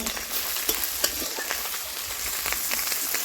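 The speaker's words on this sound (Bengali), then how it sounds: "লাল লাল করে ভালো করে ভেজে নেব লাল লাল করে ভাজা হয়ে গেছে" Pieces of chiti crab fry in hot oil with a steady, close sizzling hiss, broken by a few sharp pops and light stirring clicks.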